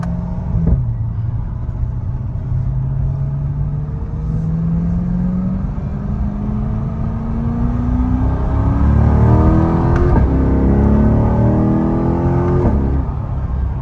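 A 2022 Corvette C8 engine with stock exhaust revs up steadily, pitch climbing through gear shifts, loud and close with a deep rumbling exhaust note, no talking.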